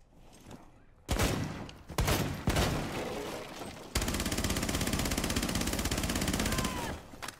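Gunfire rings out in the video game Rainbow Six Siege: a few loud separate shots come first, then a long, dense burst of rapid automatic fire lasting several seconds.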